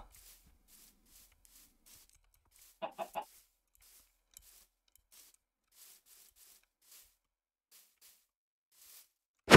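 A Minecraft chicken clucks in a quick cluster of three short notes, then faint ticking game sounds carry on before a loud sharp sound at the end.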